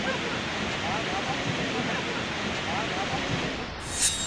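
Fast-flowing floodwater during heavy monsoon rain near a broken bridge in the Mohan area of India, a dense continuous roar of rushing water throughout, with a brief sharp noise near the end.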